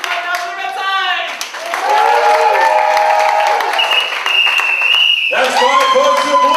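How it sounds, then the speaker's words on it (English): Audience applauding and cheering for the red side at an improv comedy show: a loud, sustained crowd roar with raised voices and a sharp whistle partway through, the cheering swelling again near the end. "Applaud now for the red side!"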